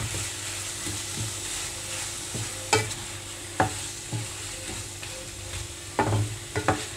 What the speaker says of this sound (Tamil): இப்போ இதோடு சேர்த்து நல்லா இந்த மாதிரி கிளறி விட்டுக்கலாம்.